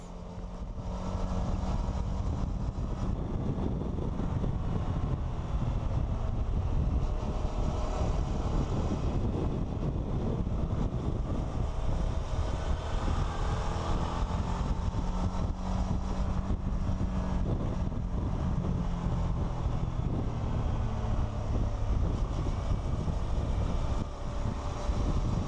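Suzuki V-Strom 650 XT motorcycle, a 2018 model, ridden along a country road, its engine a steady drone under heavy wind rush for the whole stretch, with no talk.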